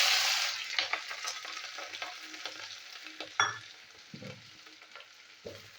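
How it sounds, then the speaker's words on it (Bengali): Chopped onion and green chilli fry in hot oil with cumin and bay leaf, a bright sizzle loudest at the start that settles into softer crackling, with occasional stirring scrapes and bumps close by. "তো পেঁয়াজটা আমি ভেজে নেবো"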